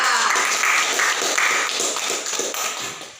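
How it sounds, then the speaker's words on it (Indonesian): Students in a classroom give group 2 a round of applause, an uneven patter of claps from a small group that comes in irregular bursts and thins out toward the end. "kita beri tepuk tangan untuk kelompok 2"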